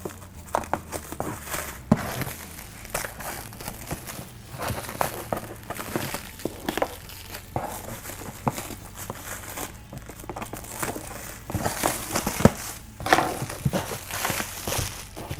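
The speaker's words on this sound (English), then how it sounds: "So it comes looking like this in this plastic wrap. I'm going to just cut this off," Plastic wrap is cut and peeled off a Getac S510 laptop, a run of close crinkles, rustles and sharp snips that come in bursts and grow busier toward the end.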